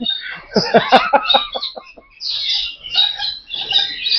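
Galahs in a large parrot collection give a burst of harsh, rapid screeching calls, followed by shriller, higher-pitched screeches, loud and close.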